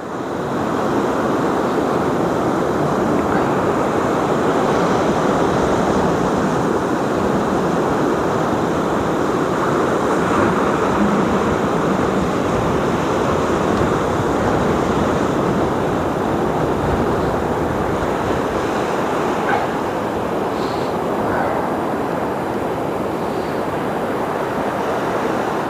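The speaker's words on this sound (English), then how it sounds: "It's just the wind." Strong coastal wind roars without a break in a dense, steady rush, buffeting the microphone, with surf-like wash underneath and no voices.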